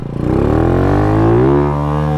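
A motorcycle engine revs up loudly and close by, its pitch climbing steadily, then settles into a sustained high rev.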